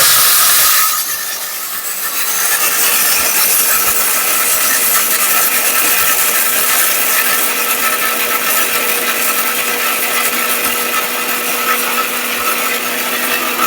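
An electric blender grinder runs steadily, grinding whole gram flour with dry jaggery in a continuous, loud whirring roar that holds unbroken from start to finish after a brief dip near the beginning.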